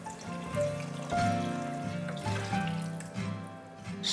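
Water poured or trickling into a pot of rice porridge (congee with miso paste), a soft steady liquid sound with faint tonal resonances, close and fairly quiet.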